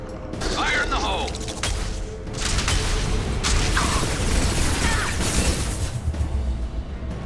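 A grenade blast in Mass Effect 2 combat, heavy booms and crackling bursts mixed with shouted game voices, the rumble rolling on steadily across the scene.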